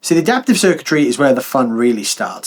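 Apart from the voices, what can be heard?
None of the usual background noises is heard.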